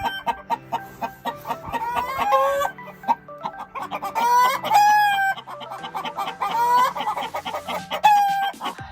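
Hens cluck and squawk excitedly in a busy, overlapping chorus inside a coop, with loud rising calls standing out now and then, close by and continuous.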